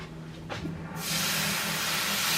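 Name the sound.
chicken sizzling in hot oil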